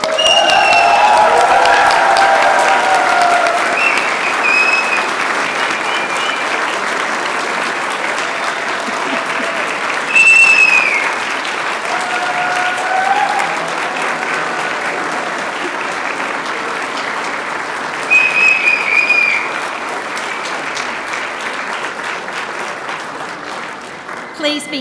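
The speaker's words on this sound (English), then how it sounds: "Give them another round of applause." A crowd applauds graduates at a 2023 Melbourne hospitality and business graduation ceremony. Sustained, loud clapping continues for about twenty-five seconds, with a brief swell near the middle and scattered voices mixed in.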